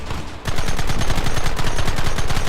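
Loud rapid-fire gunshots in a Red Dead Redemption shootout burst in after a brief lull, then keep up a fast, even, machine-gun-like rhythm of close shots with no talk over them.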